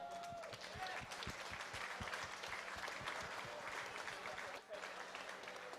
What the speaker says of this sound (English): I would like those seated, standing, to give them a round of applause